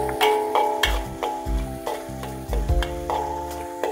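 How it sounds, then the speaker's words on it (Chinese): Pork floss is stir-fried in a wok with scallion, ginger and garlic, giving a steady sizzle broken by repeated scraping and clanking strokes of the spatula, close and fairly loud, with no talking. "炒到它闻到有那个葱姜蒜的味道出来"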